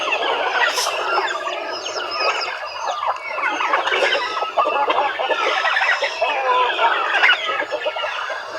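A flock of young chickens clucks and chirps continuously at close range on a farm, busy overlapping calls with no one talking.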